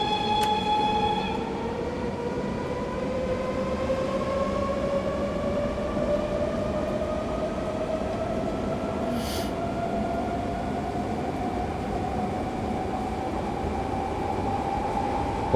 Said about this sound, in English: KG Anderson, we're driving the BR420 in SBahn Orange.